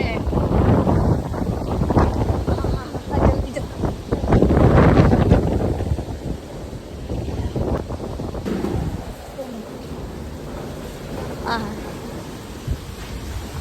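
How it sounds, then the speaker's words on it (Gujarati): Strong wind buffeting the microphone in loud, rumbling gusts that ease off toward the end, with faint voices underneath. "એટલો જોરથી પવન આવે"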